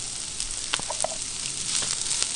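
Onion slices sizzling in hot avocado oil on a Camp Chef griddle, a continuous hissing fry with a few faint clicks and pops, close and moderately loud, nobody speaking.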